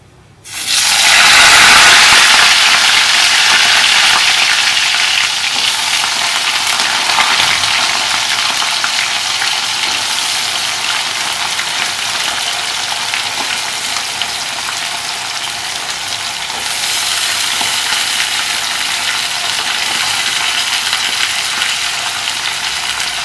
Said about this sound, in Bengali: আলুর মধ্যে একটু নুন আর একটু হলুদ দিয়ে আলুটাকে ভেজে নেব।